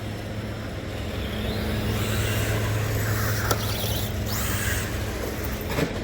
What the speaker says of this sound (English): that traffic is getting really loud right about now